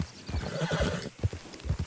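A horse in Red Dead Redemption II whinnies and neighs close by, its call mixed with the steady clip-clop of hooves on the ground over a couple of seconds.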